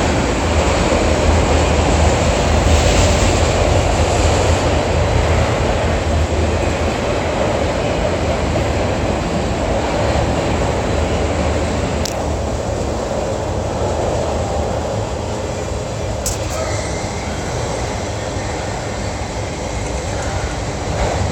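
A freight train with Conrail cars rolls past near an abandoned rail yard, a loud continuous rumble and clatter of wagons that eases as it slows, with a few brief squeals near the end.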